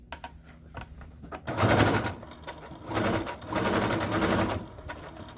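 A sewing machine stitching the fabric of an envelope-style pillow cover, running in several bursts of rapid mechanical clatter with short pauses between them, close and clear, no speech.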